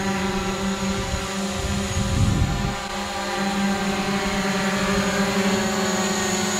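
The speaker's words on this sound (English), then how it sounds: "Using my phone, I've just set the drone on auto tracking," A camera drone flying in auto-tracking mode gives off a steady, loud whirring propeller drone that holds throughout, with a brief louder low rumble near the middle.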